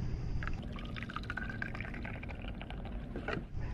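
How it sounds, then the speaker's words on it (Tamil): Water pours steadily into a tumbler, filling it to the top with a continuous close splashing gurgle that runs throughout the clip. "ஸோ டம்ளர் ஃபுல்லாக தண்ணி ஊற்றியாச்சு"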